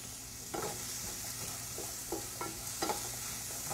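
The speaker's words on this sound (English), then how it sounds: "I'm just going to saute the onions just to soften them up a little bit" Onions sauté in oil in a pan, cooked until softened and lightly browned. A steady sizzle runs throughout, broken by intermittent scraping stirs. No one speaks.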